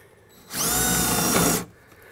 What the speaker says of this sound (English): You wanna drill right into the brick